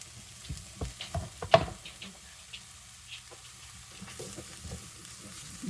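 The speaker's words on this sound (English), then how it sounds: "So half of an onion, and we'll let that cook down a little bit." Half an onion frying in a pan, a quiet low sizzle broken by intermittent stirring clatters and scrapes, one louder knock near the start.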